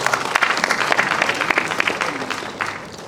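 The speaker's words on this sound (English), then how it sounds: "So a lot of applause for all of them." A crowd applauding at a university convocation ceremony, dense rapid clapping at moderate distance that stays steady and then gradually thins out.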